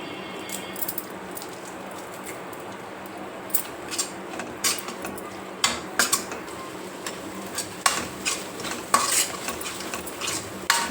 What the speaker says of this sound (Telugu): ఉల్లిపాయ పచ్చిమిర్చి పేస్టు, కరివేపాకు ఇవన్నీ వేగినాయి కదండి